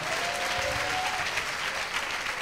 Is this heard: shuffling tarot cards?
no